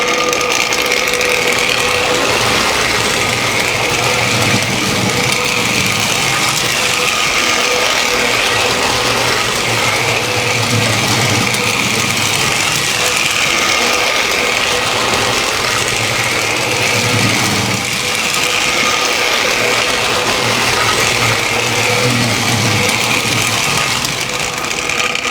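A small electric motor in a pre-war American Flyer toy train hums and whirs continuously with a faint rhythmic clatter of wheels on track, steady and close for the whole stretch.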